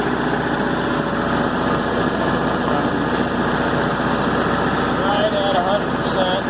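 A military MEP-802a diesel generator runs under load, a steady loud engine drone with constant vibration filling the whole stretch, with no pause or change in pitch.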